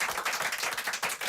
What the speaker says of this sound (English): applaudissements dans ce studio avec des lecteurs, auditeurs de France Inter et membres du jury du Livre Inter